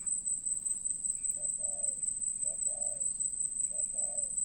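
A wild bird calls in three short two-part hoots spaced about a second apart, soft and moderately distant over a constant high insect buzz and low background hum, with no voices.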